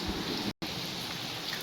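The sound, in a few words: heavy rain falling outside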